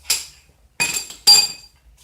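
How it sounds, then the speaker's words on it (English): A metal breaker bar works loose a Toyota Camry differential fill plug, giving three sharp, bright metallic clinks in close succession, close up and with no talk. "I'm gonna use this bar for leverage to break it loose"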